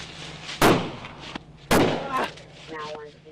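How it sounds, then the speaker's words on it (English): Two sharp, loud gunshots ring out about a second apart over steady background rumble, recorded on a dash cam during a deputy's exchange of gunfire with a suspect, followed by faint voices. "a deputy exchanging gunfire with a suspect"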